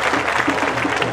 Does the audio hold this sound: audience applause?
yes